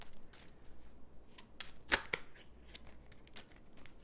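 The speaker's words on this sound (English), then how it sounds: "let me give these a little bit of shuffle here together" A deck of tarot cards is shuffled softly in a quiet room, with faint papery riffles and a couple of sharper card snaps around the middle.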